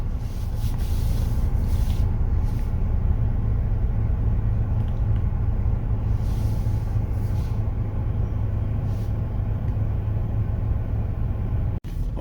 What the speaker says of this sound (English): Try to finish our test drive.